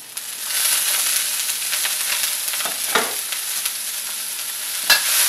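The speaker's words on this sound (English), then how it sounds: "Now we're going to put our onions in the pan." Chopped onions and ginger hit a hot pan and fry with a loud, steady sizzle, broken by a few scraping stirs and clatters of a utensil; no voices.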